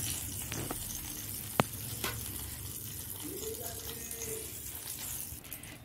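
Ingredients for tangra fish curry sizzle in hot oil, a fine steady crackle with a sharp tap from the pan, while a voice speaks quietly over it.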